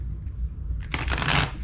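Tarot cards shuffled by hand: a brief, close riffle of cards flapping together in a quick burst lasting under a second, with no talking.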